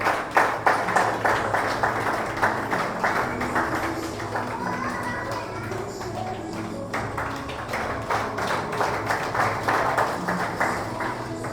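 Loud crowd applause at a Sunday evening prayer service welcoming a student, with dense rhythmic clapping sustained for about twelve seconds and a slight dip midway.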